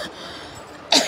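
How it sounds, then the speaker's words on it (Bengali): One sharp, loud cough bursts out near the microphone after a short stretch of quiet room noise. "আমার না কাশি আটকে রাখতে পারতেছিলাম না"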